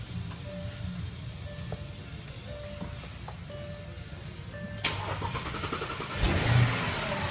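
A 4.2-liter V8 FSI car engine cranks and fires up after a jump start from a compact jump-starter pack, rising in a loud close burst near the end over a steady low rumble, with no talking.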